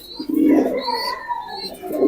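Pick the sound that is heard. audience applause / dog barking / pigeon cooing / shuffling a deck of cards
pigeon cooing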